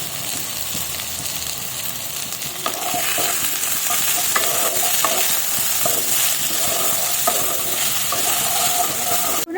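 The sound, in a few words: potatoes and carrots frying and being stirred in a pan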